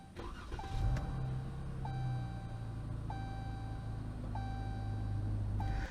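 A 2017 Chrysler 300S started by push button: a whirring starter crank catches into a steady idle, with regular dashboard chimes beeping every second or so over the low engine hum inside the cabin.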